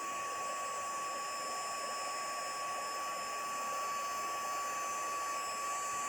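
Heat gun blowing hot air to melt embossing powder, a steady loud whooshing fan hum with a constant high whine throughout, with no speech.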